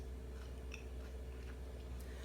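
Quiet, close chewing of Cajun pickled jalapenos with faint crunchy bites over a low background hum, no talking.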